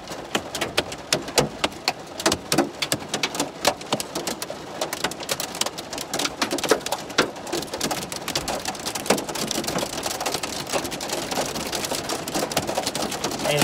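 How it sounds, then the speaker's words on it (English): Hail and rain coming down outside, a dense, continuous patter of sharp ticking impacts that grows steadier and louder toward the end, with no voices over it. "Oh man, it's hailing right now too."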